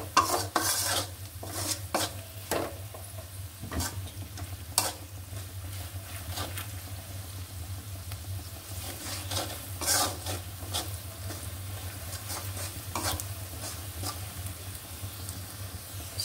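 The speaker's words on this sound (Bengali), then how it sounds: "মশলাটা ভালোভাবে কষিয়ে নিব।" Chili, turmeric, coriander powder and salt sauté in a pan with onion while a utensil scrapes and stirs, giving repeated close scraping strokes over a faint sizzle and a low steady hum.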